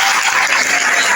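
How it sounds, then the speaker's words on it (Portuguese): Dense, steady applause fills a church service, a brief burst of many hands clapping together with no voices standing out. "As palmas agradecem, Senhor Jesus."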